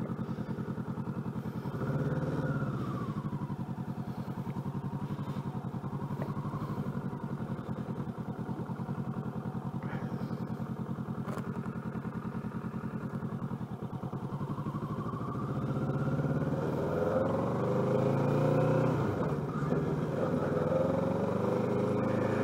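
A 2021 Kawasaki Ninja 650 motorcycle pulls away and accelerates, its engine droning steadily and close with pitch swells that rise through the gears, running continuously throughout.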